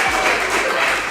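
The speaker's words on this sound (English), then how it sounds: "give Wayne a big round of applause" An audience at a comedy magic show applauds in a dense, continuous wash of clapping for about a second, loud and close, with no one speaking over it.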